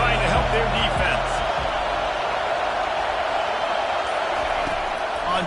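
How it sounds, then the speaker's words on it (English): Packed football stadium crowd roaring for the home defense in a steady, dense wall of cheering and noise that barely varies, with a voice talking over it. "Listen to this crowd just shaking the girders of this place, trying to help their defense."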